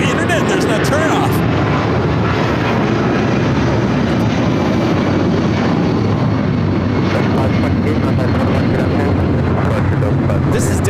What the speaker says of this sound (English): This is Delta Airlines 528 taking off to Atlanta on the 757-300.